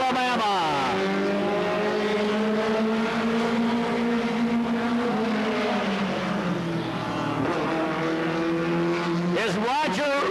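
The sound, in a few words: Pontiac race car on qualifying run at speedway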